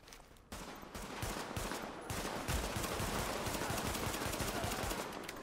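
Sustained automatic gunfire from The Division, a dense rapid clatter of shots running almost without a break, loud and close for the whole stretch.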